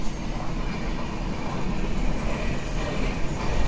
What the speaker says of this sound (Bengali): আন্তনগর ট্রেন